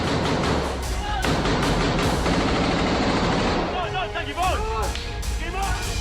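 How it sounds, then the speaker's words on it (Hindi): Heavy gunfire in a southern Lebanese village during an Israeli ground operation against Hezbollah positions, a loud dense clatter of bursts and thuds with voices and crowd babble mixed in. "जबरदस्त फायरिंग चल रही है"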